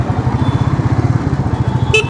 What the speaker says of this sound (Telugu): ట్యాపింగ్ సౌండ్ అంటే మనం బండి స్టార్టింగ్లో కొన్నప్పుడు ఏ క్లారిటీ ఉందో అదే క్లారిటీ ఉంటుంది